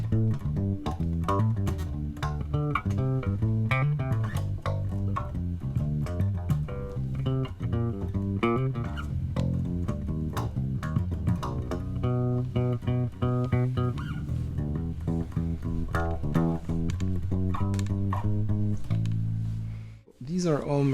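A bass guitar plays a funky cover of a song, busy root-note lines over minor chords running steadily and loud, then cutting off near the end.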